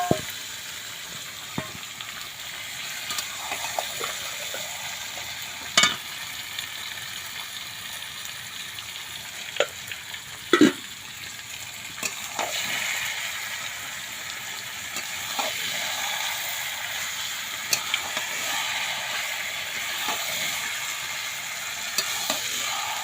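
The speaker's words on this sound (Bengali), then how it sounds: "ম্যারিনেট মাংসটা আমি এই পেঁয়াজটা ভাজা হয়ে গেছে পেঁয়াজের মধ্যে ঢেলে দিলাম।" Steady oil sizzle and frying hiss throughout as marinated chicken fries with onions, with occasional sharp clinks and stirring scrapes; no talking.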